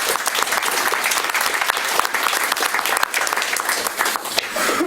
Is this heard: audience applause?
yes